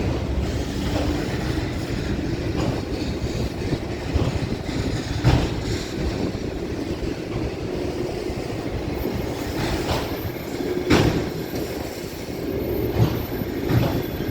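A CSX freight train hauling auto racks rolls steadily past close by, with a continuous low rumble, rattling cars and occasional sharper wheel clacks throughout.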